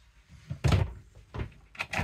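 A small glass-paned cupboard door in a Bavaria integral motorhome is handled, giving a few close knocks and soft thuds as it opens and shuts, with a firm clunk near the start.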